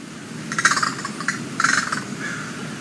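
A crow gives a rattling caw call in two clear bursts a second apart with a fainter third trailing off, fairly close and alone.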